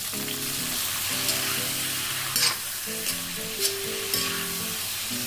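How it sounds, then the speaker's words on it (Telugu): Cleaned prawns fry slowly in hot oil for a prawn masala curry, a steady close sizzle with a few sharp stirring scrapes, while soft music plays underneath. "కాయిపోయిన వెంటనే ఇప్పుడు మనం ఇదిగోండి క్లీన్ చేసుకున్న ప్రాన్స్ అన్నీ కూడా దీంట్లో వేసేసుకుందాం"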